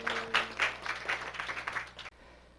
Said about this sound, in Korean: 하나님께 박수만 올려드립니다.